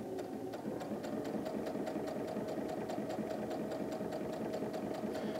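A sewing machine runs steadily, stitching quilt fabric along a strip of blue fabric, with a fast, even mechanical rhythm heard up close and alone.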